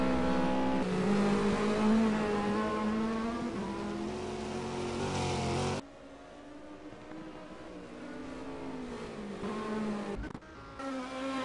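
GT race cars roaring around the Zandvoort circuit during a 500 km endurance event in a sim racing game, engines loud and continuous with pitch rising and falling through gear changes, one car dropping away sharply midway before another takes over.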